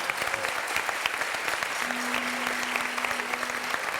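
A studio audience on a Turkish TV talk show claps steadily for the whole stretch, a dense even patter of many hands with no talk over it.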